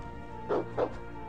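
Two short dog barks from the video game King Of Defense, close together and fairly quiet over steady game background tones.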